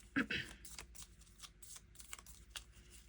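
A deck of tax cards from a cash-stuffing savings game is shuffled by hand, giving a quick riffle followed by soft, repeated card flicks and taps at close range.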